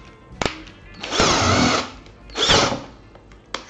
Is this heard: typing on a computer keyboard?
no